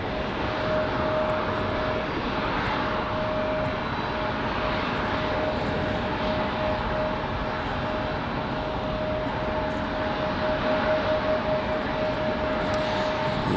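A steady, loud aircraft engine roar with a constant hum fills the whole stretch at Raleigh-Durham International Airport in the evening, with no break or pause.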